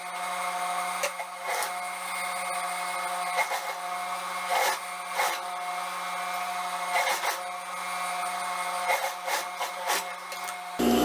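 A sewing machine stitches the crotch seam of elastic-waist shorts, a steady close mechanical whir and rattle running throughout with short bursts of faster clatter.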